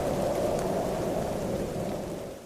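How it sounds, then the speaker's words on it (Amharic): A storm sound effect of heavy rain and low rumbling thunder with gusting wind, a thick continuous wash that stays loud before easing off slightly at the end, with no voices. "ነፋሱም መንፈስ ጀመረ፣ ዝናቡም ዘነበ።"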